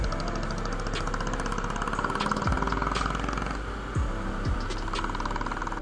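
A Bajaj Dominar motorcycle engine runs steadily on a Sunday morning ride near a crowded India Gate, with a constant droning hum and a few brief shifts in tone, no talking.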